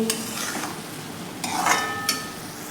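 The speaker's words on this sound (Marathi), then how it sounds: "आपण हे छान असं परतून घेऊयात एक दोन ते तीन मिनिट अजून छान आपण हे परतून घ्यायचं आहे" A beetroot mixture for a milky burfi is sautéed in a pan, giving a continuous soft sizzle with a few stirring scrapes and clinks of the spoon against the pan, close by and with no talking.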